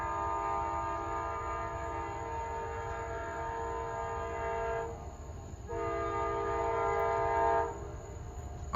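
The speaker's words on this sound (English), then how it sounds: "we have the Northbound Amtrak Auto Train approaching." The northbound Amtrak Auto Train approaches in Folkston, sounding long loud horn blasts with short breaks over a steady low rumble.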